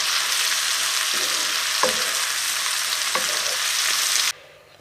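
Garden peppers sautéed with a spoonful of garlic purée hiss in a pan, a steady bright sizzle broken by a few soft scrapes of stirring before the sound drops away abruptly.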